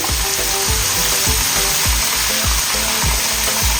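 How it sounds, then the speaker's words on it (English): Loud, steady sizzling of fish frying in hot oil, with crackling pops throughout and no voices. "As you can see, they are frying."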